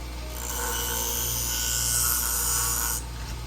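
Scissors are sharpened on a Wolfe Industries Twice As Sharp diamond wheel sharpener: one close, steady grinding rasp swells in for about two and a half seconds, then stops over a low background hum.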